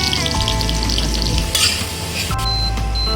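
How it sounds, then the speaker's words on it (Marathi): Garlic cloves and a bay leaf fry in hot oil in a pan, giving a loud, steady, dense sizzle close up, with brief stirring scrapes and no voices. "1 तेजपत्ता टाकला, लसूण टाकतोय"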